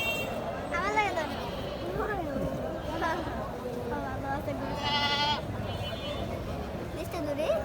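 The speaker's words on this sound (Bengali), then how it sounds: "এটা ছাগল" Goats bleat repeatedly at a busy cattle market, several wavering calls close by, mixed with people talking and general crowd noise.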